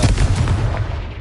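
Confringo blasting spell going off in Hogwarts Legacy: a loud, booming explosive burst with heavy low rumble that decays steadily over about a second, with no voices.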